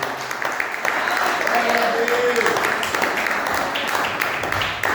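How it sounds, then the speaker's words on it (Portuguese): A church congregation applauds together, a dense, sustained wash of clapping that swells after the first second and holds steady, with voices and a faint tonal sound mixed in underneath. "desocupe as suas mãos, aplauda o nome do Senhor Jesus nessa noite"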